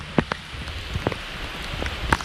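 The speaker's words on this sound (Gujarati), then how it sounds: "વરસાદ સારો આવ્યો એટલે" Rain falls steadily outdoors at a custard apple orchard, a soft continuous patter with a few sharper drops, moderately loud and steady, with no talking.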